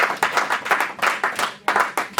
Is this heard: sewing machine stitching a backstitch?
no